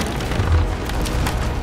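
A heavy cannon shot strikes a ship in a naval battle video game, a single loud, rumbling boom with a crunching impact that fills the short moment.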